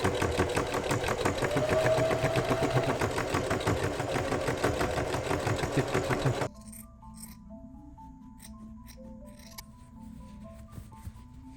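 A sewing machine runs steadily, stitching loops of fabric for a cushion's teeth, a fast mechanical whirring for about six seconds before stopping abruptly, leaving faint clicks and handling noises.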